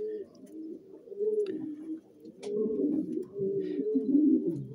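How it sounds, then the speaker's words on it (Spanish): A pigeon coos repeatedly in low, throaty rolling phrases, close by, with a few faint higher chirps and small noises in the background. "Mira cómo está la paloma ahí."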